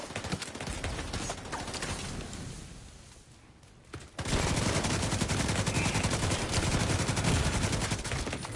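Sustained LMG fire in a multiplayer shooter's Dark Zone, dense rapid bursts that thin out and fade midway, then resume loud and unbroken after a sharp crack.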